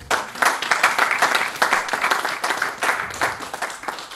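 A church congregation applauds, with steady dense clapping and rhythmic surges of claps throughout, close and fairly loud.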